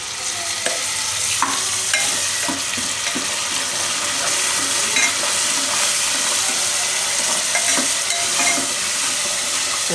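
Onion paste with green coriander frying in oil for a Gujarati dum aloo, a steady close sizzle that does not let up, with scattered scrapes and knocks of a spoon stirring the pan.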